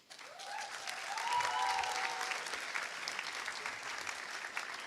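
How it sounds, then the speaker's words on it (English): Steady applause from an audience at a school graduation ceremony, honouring the senior committee, swelling quickly and holding at an even level for several seconds in a large hall, with no talking over it. "a massive round of applause for the senior committee"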